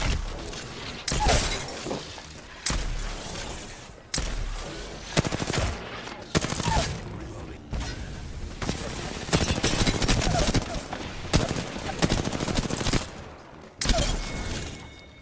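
Weapons firing in the Apex Legends video game, repeated bursts of rapid automatic fire with short pauses between volleys, loud and close, with a voice talking over parts of it.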